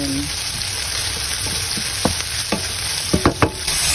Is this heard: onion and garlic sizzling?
yes